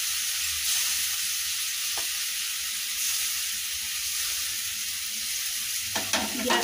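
Eggs frying in a pan for an egg piyaji paturi dish, a steady close sizzle and hiss of hot oil throughout, with a brief clatter near the end.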